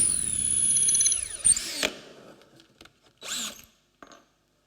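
An electric drill with a 1/4 inch bit bores into a wooden chisel handle: a high motor whine spins down, then a few short, separate bursts of drilling and scraping follow at close range.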